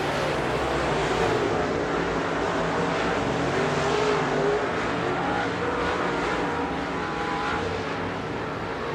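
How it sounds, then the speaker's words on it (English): Dirt track race cars roar through the final lap at Victory Lane Speedway in Manitoba, a dense, loud wall of engine noise that holds steady with slight swells as the pack passes. "White flag is out, final lap for Danny Staff."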